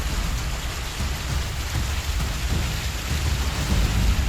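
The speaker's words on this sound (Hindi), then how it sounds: "पिछले 3 दिन की भारी बारिश शहर पर कहर बनकर टूटी है।" Heavy rain pours steadily over flooded Chennai, a dense continuous roar with low rumbling beneath, loud and unbroken, no voices.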